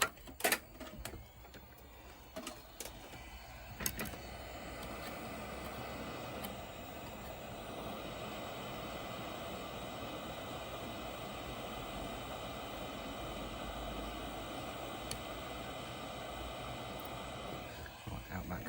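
A heat gun blows hot air onto a part of an N64 game cartridge being repaired, a steady close whooshing drone that starts after a few clicks and handling noises and runs on evenly.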